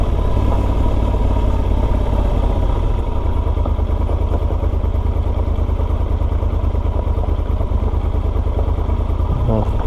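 A motorcycle engine-brakes downhill in first and second gear, loud and steady close by, a low continuous rumble with rattling mechanical clatter throughout.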